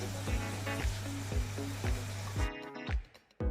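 Vinegar and red chilli sauce sizzle in a pan for chilli chicken on a gas stove, a close, quiet frying hiss broken by regular stirring strokes, then a brief drop near the end.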